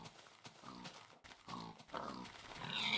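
Many pigs grunt and oink in the early Infdev version of the video game Minecraft, a busy overlapping chorus of short snorts at close range.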